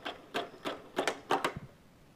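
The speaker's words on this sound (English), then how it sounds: "there's a clicking" A propeller tensioner on a large rubber-powered free flight model airplane clicks about eight times in a quick, uneven sequence, soft and close, ending with a low thump.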